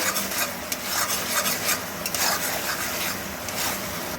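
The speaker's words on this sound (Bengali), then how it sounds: "সসটা তেলে নাড়াচাড়া করার পরে" Hot and sweet sauce sizzles in hot oil as it is stirred and tossed in a pan, a continuous close frying hiss with soft scraping movements throughout.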